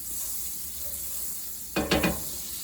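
Butter sizzling in a skillet for a chicken stuffing casserole, a faint steady hiss with a short burst of clattering near the end.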